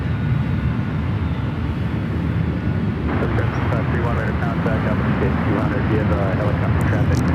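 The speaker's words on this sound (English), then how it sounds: "There we got plenty of aircraft heading toward the ones." Airplanes taxi at San Francisco International Airport, giving a steady, loud engine roar that holds constant throughout, with a slightly brighter, busier texture in the second half.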